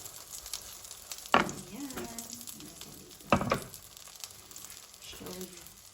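Garlic sizzles and fries in a hot pan for a torta, a steady crackle with two louder bursts as it is stirred, while a person talks briefly over it.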